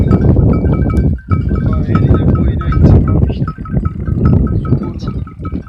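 Several sheep bleat loudly and overlap each other close by, a dense flock chorus with constant background bustle.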